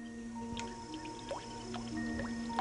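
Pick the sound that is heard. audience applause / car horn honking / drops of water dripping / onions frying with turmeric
drops of water dripping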